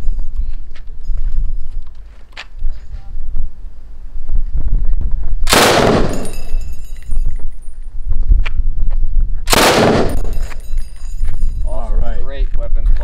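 Rifle fire from Israeli IWI weapons at a shooting range, with two loud, sharp blasts standing out over steady background noise and faint talk.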